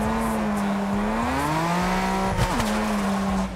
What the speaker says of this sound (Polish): trzeba przyznać, że dźwięki są samochodów bardzo fajne